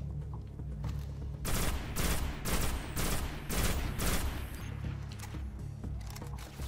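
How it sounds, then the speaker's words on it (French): Rifle fire in the console shooter Destiny on PS4, a run of about six heavy, evenly spaced shots with booming low tails, loud and close against a steady game backdrop. "Plus vous tirez et plus le fusil recule, c'est très chiant."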